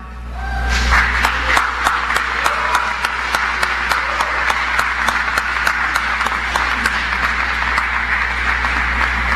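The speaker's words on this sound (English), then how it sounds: "pick out that person or persons and applaud them" Graduates at the Penn State Wilkes-Barre 2017 spring commencement applaud, a loud, sustained wash of many hands filling the hall with regular sharper claps standing out, steady throughout without speech.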